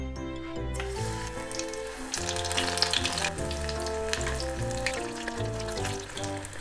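Broccoli tempura deep-frying in hot oil for Japanese home cooking, giving a steady, close bubbling sizzle that runs throughout under background music.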